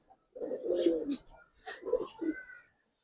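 Giribaz coloring pigeons coo close by, two soft throaty bursts with a short pause between them, quiet and alone.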